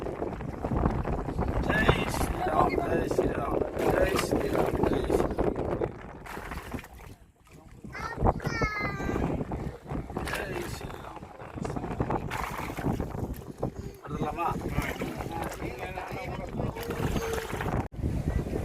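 Strong wind buffets and roars across the microphone near the shore, gusting unevenly, with voices talking intermittently over it.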